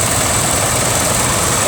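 A 1978 horticultural tractor from J. Rod, Kingsley, in a steam rally tractor parade, runs with a steady, loud engine rumble that holds continuously throughout.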